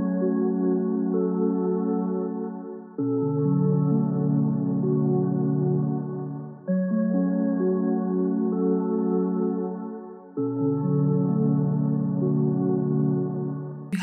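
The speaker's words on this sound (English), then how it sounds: "I grabbed this preset called Chilled Winds. It's keys from this synthesizer and it sounds like this." Vintage-style synthesizer keys playing the Chilled Winds preset, a warm sustained pad-like chord progression with four long held chords changing every few seconds, loud and alone.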